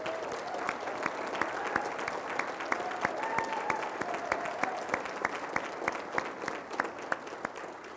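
Audience applause for honorees at a county event, a moderate crowd clapping steadily and evenly for the whole stretch, sharp individual claps standing out against the wash of hands.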